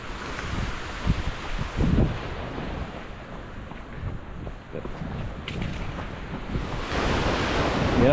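Ocean surf at high tide on a rocky beach at sunrise, washing steadily onto the shore, with waves swelling and breaking in a continuous roar, wind buffeting the microphone at times.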